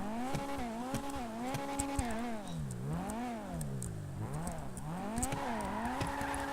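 A car engine revs up and down repeatedly in Grand Theft Auto V, its pitch rising and falling in smooth sweeps over several seconds.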